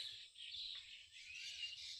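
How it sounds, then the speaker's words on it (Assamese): Birds chirp at dawn in a village, with faint, continuous high twittering that rises and falls without pause, heard alone. "চৰাই চিৰিকটি মাত।"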